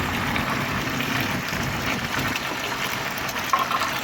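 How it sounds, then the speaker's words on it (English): Water running steadily into a bucket that is being filled a quarter full to clean old range brass, a continuous close hiss and splash with no talking. "I'm just going to fill up maybe a quarter of the bucket, a couple gallons."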